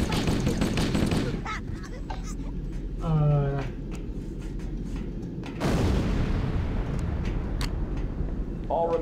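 Gunfire from the video game Halo: Combat Evolved crackles in loud bursts at the start and again midway, with rumbling battle noise between and voices speaking over it.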